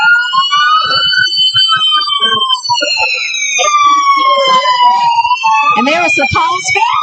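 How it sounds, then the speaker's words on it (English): Cosby Fire Department trucks in a Christmas parade sound wailing sirens, several rising and falling tones overlapping loudly and close, with people talking underneath. "They've got the sirens going"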